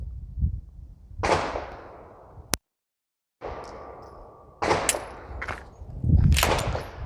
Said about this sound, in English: See, I hit it, but it didn't fall.